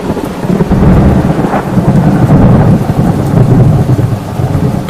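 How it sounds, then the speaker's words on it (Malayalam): Loud, rolling thunder booms through steady heavy rain, filling the whole stretch with a dense roar and no voices. "പെട്ടെന്നാണ് വലിയ ശബ്ദത്തിൽ ഇടിവെട്ടിയത്."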